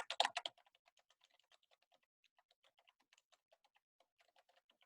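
Typing on a computer keyboard, a brief burst of louder clustered keystrokes at the start followed by a steady run of light, quick key taps, close and alone with no voices.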